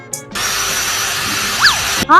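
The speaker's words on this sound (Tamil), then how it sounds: "ட்ரில் எடுத்து முடியில சுத்துறானே" A steady, high-pitched power drill whirs continuously for about two seconds, starting and stopping abruptly, with a brief squeal near the end.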